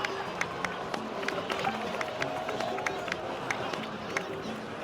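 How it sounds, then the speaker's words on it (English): Applause from a crowd in the video game Genshin Impact, a steady patter of many hands clapping with sharp individual claps standing out, heard at moderate distance. "please give another round of applause for them"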